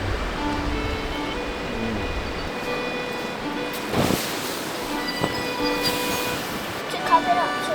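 A rushing high-country river, the Macalister, pours in a steady broadband roar throughout, with a voice talking over the flow.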